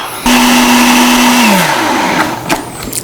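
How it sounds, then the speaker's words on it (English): A countertop blender whirs loudly as it mixes a protein shake, starting abruptly with a steady high motor drone, then winding down in pitch as it switches off, followed by a few light clatters. "put our cup like that, turn on the blender, and here we go"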